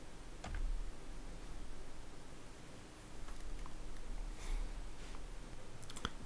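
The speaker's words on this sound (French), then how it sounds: "je vais appuyer sur la touche supprime de mon clavier" A delete key pressed on a computer keyboard: a few faint, isolated clicks, with a sharper one at the very end, over quiet room hiss.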